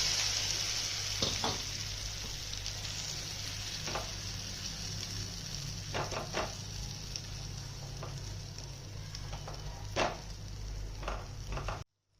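Vegetable egg omelette batter sizzles in hot oil with a dense, continuous crackle, close and loud, scattered with brief spatula scrapes and taps until it cuts off abruptly at the end.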